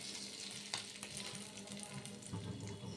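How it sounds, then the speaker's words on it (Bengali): Oil poured into a hot kadai (wok), a soft, steady sizzle with light crackles that stays faint and close from start to finish. "সেই কড়ার মধ্যেই আবারও তেল দিয়ে দেব আমি"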